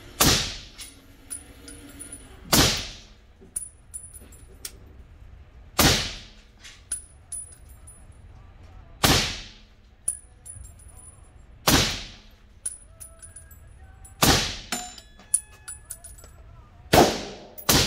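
A suppressed M1 Garand rifle fired repeatedly, each sharp muffled crack followed by a brief ringing tail, about seven shots spaced roughly two to three seconds apart, with a metallic ping of the ejected clip also audible.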